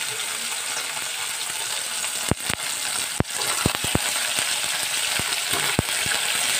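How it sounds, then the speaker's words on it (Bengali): Capsicum and tomato fry gently in oil for kadhai paneer, a continuous soft sizzle with a few sharp utensil clicks and taps scattered through, close and steady, no talking. "খুব বেশি ভাজবো না, একটু হালকা শুধু তেলের মধ্যে সেদ্ধ করো"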